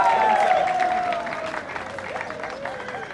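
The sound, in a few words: crowd applauding the entrance of the UDPS secretary general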